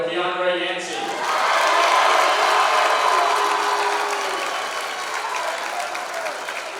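An audience at a 2026 varsity boys basketball tournament gives a loud, sustained round of applause for the all-tournament team. A brief announcer voice leads into it, and the clapping swells and then slowly fades.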